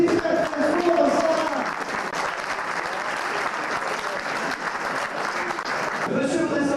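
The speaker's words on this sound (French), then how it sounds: "On applaudit très très fort ça" Audience at a French telepathy stage show applauds loudly and steadily, a dense wash of clapping sustained throughout with a brief voice at the start and end.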